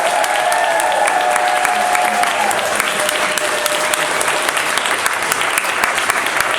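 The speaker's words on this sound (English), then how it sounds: "Let's give a round of applause for the First United Methodist Church." Sustained, dense applause from an audience at a Peaceburgh New Year's Eve event, honoring the First United Methodist Church; a steady thick wash of clapping with a faint high tone running through the first few seconds.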